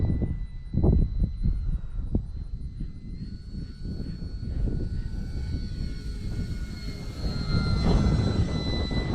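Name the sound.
FT Freedom Fox RC plane flying past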